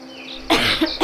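A woman in a radio-style drama coughs as she comes back to consciousness after being revived with rescue breaths and chest compressions: a hard close cough burst following a quiet moment, then two shorter coughs.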